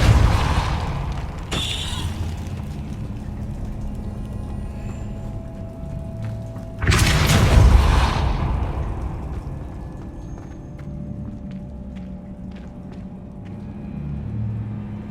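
The Repulso spell hits in Hogwarts Legacy with a heavy booming blast. A smaller thump comes first, then a big rumbling impact that fades into a low roar, all against quiet game ambience.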